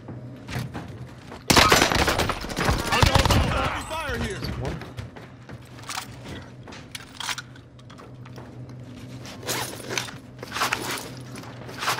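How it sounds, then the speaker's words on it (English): Gunfire rings out in a PUBG-style battle royale match: a loud burst of rapid shots early on, then scattered single cracks and thumps, with footsteps and movement sounds in between. "That shooting's going to bring people to them."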